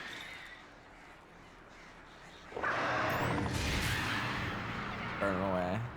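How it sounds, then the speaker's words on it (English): Crows cawing in the video game Alan Wake Remastered, heard over a muffled ambient bed, then a sudden loud burst of dense game noise with harsh calls layered on top. "Local man stands on edge of bridge staring at birds."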